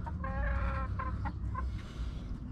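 Backyard chickens clucking close by, with several short, bright clucks in quick succession over faint background noise.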